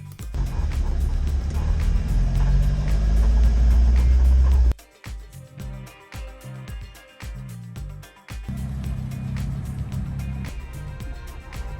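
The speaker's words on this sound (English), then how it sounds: "ready to do a test drive and see what the car feels like" Car driving on a road test after wheel alignment and engine mount work, with steady loud engine and road rumble that drops off mid-way into uneven, choppy driving noise before the steady rumble returns.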